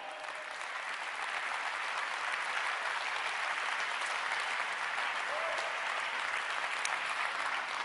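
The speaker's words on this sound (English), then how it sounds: "I think they deserve an applause for that, right?" Sustained audience applause fills a seminar hall at a network marketing success stories event, a dense, steady wash of many hands clapping without pause from start to finish.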